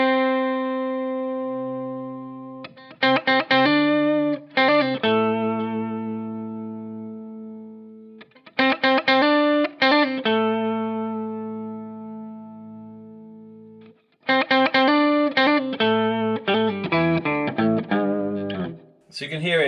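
Electric guitar run through a Boss OC-5 octave pedal, the octave effect following the lower notes but dropping out on the higher ones. Sustained chords and note runs come in three phrases, fairly loud and clear.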